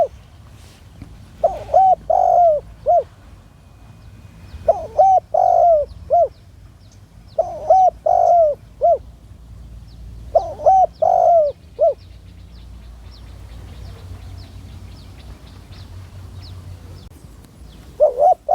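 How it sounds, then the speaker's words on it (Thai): A wild dove coos in repeated groups of short, clear phrases, a few seconds apart, moderately near against a quiet outdoor background with no talking. "มีนกปลาเขามาขันตัวนึงครับผมพี่น้อง"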